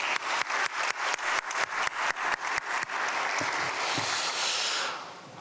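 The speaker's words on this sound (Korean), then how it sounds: "박수 주시기 바랍니다." A church congregation at an Easter dawn worship service claps in rhythmic unison for a few seconds, then breaks into looser scattered applause that fades out.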